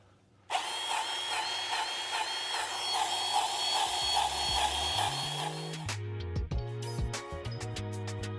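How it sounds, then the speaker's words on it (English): A grease gun pumps grease to tighten the track on an excavator after roller replacement, a steady loud mechanical whine for several seconds, then stopping into a series of sharp clicks and clunks. "Now we're gonna tighten up the track with the grease gun."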